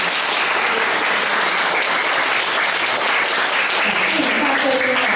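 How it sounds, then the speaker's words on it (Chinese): Dense, loud applause from a crowd at an academy end-of-term showcase, a continuous wash of clapping hands lasting several seconds without break. "掌声鼓励鼓励"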